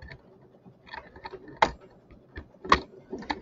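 An embroidery machine stitching a design: irregular mechanical ticking and clicking with a few louder clacks, near and moderately loud, and no talk.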